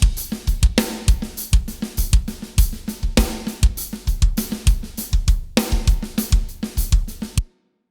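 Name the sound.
virtual drum kit demo, GGD P5, Wildfire full turbo preset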